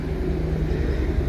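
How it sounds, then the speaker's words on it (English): A helicopter passes over a lake, its steady rotor and engine drone carrying a continuous low rumble at moderate volume, with no talk. "Sorry about the helicopter."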